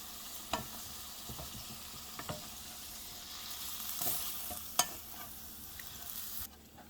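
Spices for palak paneer sizzle in a frying pan as they are stirred, a low constant frying hiss punctuated by sharp scrapes and taps of the spoon against the pan, with no talking.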